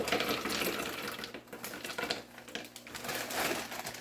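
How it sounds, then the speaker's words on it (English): Frozen blueberries pour into a container for a vegetable and fruit juice, a dense, steady rattling clatter of hard frozen berries tumbling for several seconds, fairly close with no voices. "I'll take some blueberries, frozen blueberries, pour those in,"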